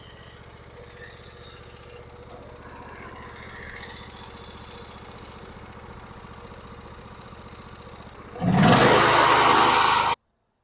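A riding lawn mower engine, once abandoned in a field, runs at a steady idle for about eight seconds, then surges suddenly loud and rough for a couple of seconds before cutting to silence.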